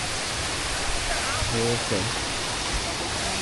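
Water from Sarika waterfall rushes in a steady, full roar throughout, while someone speaks briefly over it.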